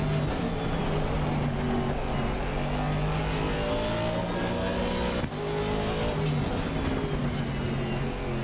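GT3 race car engine in a driving simulator game on the Nordschleife, a loud continuous drone with rising and falling revs and gear changes throughout, no talk.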